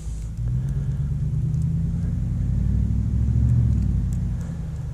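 A Dodge Hemi truck engine rumbles and revs on a snowy hill, a deep, loud, sustained roar that swells slightly toward the end.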